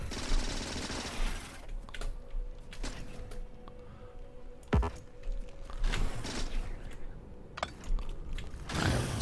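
Automated gun turrets rattle off bursts in the factory-building game Factorio, rapid mechanical fire that keeps going over a steady machine hum, punctuated by a few louder cracks, with no voices.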